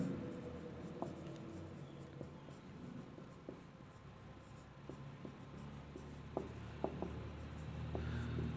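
Numbers are written by hand, probably pen or marker on a surface, heard as faint, close scratching strokes and small taps in short bursts over a low steady room hum.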